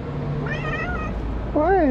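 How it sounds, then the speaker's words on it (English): Stray cats at the Rome cat ruins meow close by, a couple of short rising calls and then a louder drawn-out wavering meow, over street ambience. "I figured I would briefly stop here and say hi to the cats"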